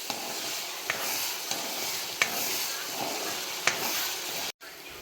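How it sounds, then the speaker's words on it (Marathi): Ginger garlic paste fries in oil with a steady, bright sizzle, punctuated by several sharp clicks of a utensil stirring the pan, close and continuous until a brief cutoff near the end. "मस्त परतून घ्यायची आहे अद्रक लसूण पेस्ट।"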